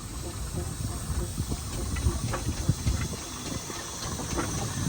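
A vintage steam traction engine with an unusual smoke box at a vintage rally, a steady hiss with irregular low chuffs and knocks at moderate distance.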